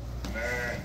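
Young sheep for sale in a flock at Beylaqan bleat in a short, close call that rises clearly above steady background noise.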